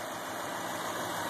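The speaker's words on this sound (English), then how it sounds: "She purrs." A Toyota 2UZ-FE V8 fitted in a third-generation 4Runner idles with a soft, steady hum, faint and even, with no voices.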